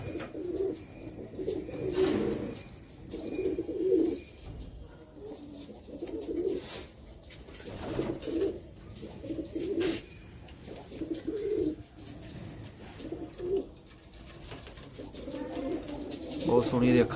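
Pigeons coo repeatedly in soft rolling phrases at a loft, close by and at moderate volume, with people talking intermittently over the calls.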